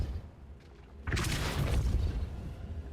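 A Depulso spell is cast in Hogwarts Legacy: after a quiet stretch, a single loud whooshing blast bursts out and rumbles on with a deep, sustained tail.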